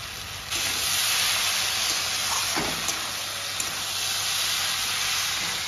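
Ginger and cumin paste sizzles in hot oil in a pan, giving a steady, fairly loud hiss that runs unbroken from start to finish with no talking.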